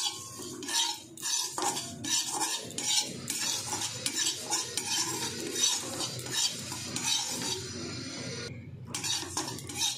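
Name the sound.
white sesame seeds being stirred and fried in a wok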